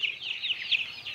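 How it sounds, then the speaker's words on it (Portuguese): Young chickens feeding on grass in a farmyard, giving a steady run of soft high peeping and clucking calls at close range, with no talk over them. "Aí galera, os pintinhos comendo capim."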